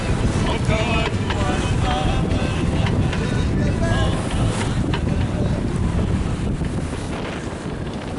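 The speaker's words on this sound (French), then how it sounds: "Avec le vent qui ne faiblit toujours pas, on ramasse des paquets d'eau par tous les côtés à la fois." Strong force 7 wind buffets a sailboat at sea, a loud continuous roar of wind on the microphone with splashing water and hull noise throughout, no letup across the whole stretch.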